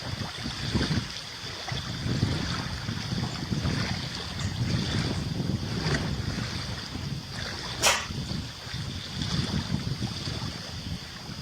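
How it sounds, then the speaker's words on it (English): Lake water laps at a dock in Wisconsin, a soft continuous wash of small waves mixed with gusty wind rumble, with one brief sharp knock near the end. "Oh, you can hear that water too."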